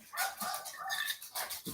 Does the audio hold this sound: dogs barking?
yes